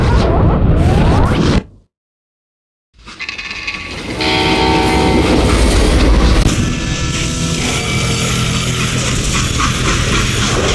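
A freight train in the Western video game Call of Juarez Gunslinger, loud rolling wheels and clatter close by with a whistle blast, after a brief silent gap.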